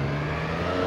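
A Triumph Street Triple 765 R motorcycle engine accelerates in second gear, a brief, steady, close mechanical drone with a rising whine and no talk.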